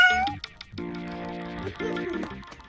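A cartoon cat meows in a cartoon Halloween episode, with a drawn-out, wavering cry that rises and falls, loud and close, after a brief higher tone at the start.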